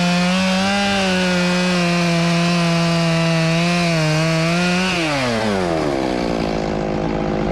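A chainsaw cutting logs in timber roars loud and close with a steady high-pitched drone that drops sharply in pitch partway through as the chain bogs down in the wood.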